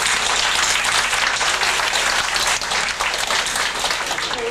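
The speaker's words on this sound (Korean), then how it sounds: "뜨거운 박수 부탁드립니다." A concert audience applauds steadily and loudly, a dense wash of clapping that carries on throughout without pause.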